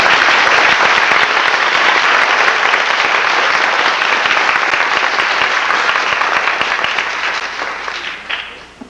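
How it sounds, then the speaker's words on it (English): A large crowd applauding at a corrections officer graduation ceremony, a loud dense roar of continuous clapping that holds steady for several seconds before tapering off at the end. "we're going to give her a round of applause"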